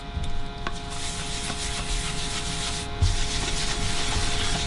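Rag steadily rubbing stain into a maple burl guitar body top, a continuous close, loud scratchy swishing with no speech.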